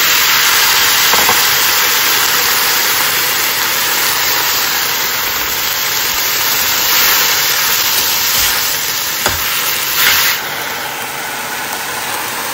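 A steady, loud sizzling hiss of taro stolons frying in hot oil, continuous throughout with no talking.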